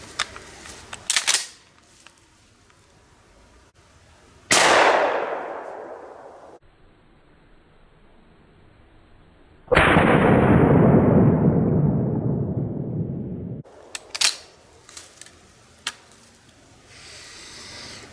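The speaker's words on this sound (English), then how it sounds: "Now for firing the gun, this heavier gun, the pump, the 12 gauge here" A 12 gauge pump shotgun fired outdoors, with two loud booming shots that each trail off in a long rumbling echo, surrounded by sharp mechanical clicks and clacks of handling, no talking.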